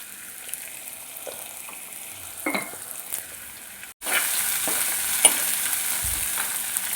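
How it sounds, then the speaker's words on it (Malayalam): Onions sautéing in a pan for a Kerala fish curry, a faint clink and stir at first, then a loud steady sizzle with scattered scrapes of the spoon, close by with no talk. "ഉള്ളിയെല്ലാം വഴന്ന് വന്നിട്ടുണ്ട്."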